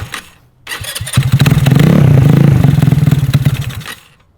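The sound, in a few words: GY6 Honda Ruckus scooter engine attempting to start cold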